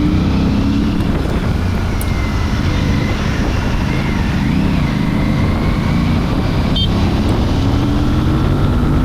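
Aprilia RS457 motorcycle engine running steadily while being ridden through mountain ghat bends, a continuous loud drone with broad wind rush and slight pitch swells.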